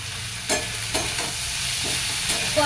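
Spices with salt and turmeric sizzle steadily in a pan for chicken curry, with a few scraping stir strokes cutting through the continuous frying hiss, close and alone.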